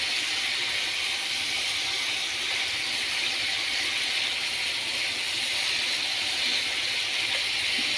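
Spices sizzle in a pan just after water is poured in while the masala is cooked down before prawns go in, giving a steady, even hiss with no pauses and no voices.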